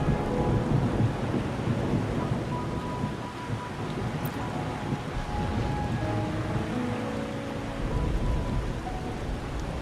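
Rain pouring on a rainy night in the Wuthering Waves video game, a dense steady wash of rainfall with low rolling thunder rumbling underneath and gusts of wind, continuous throughout with no talk.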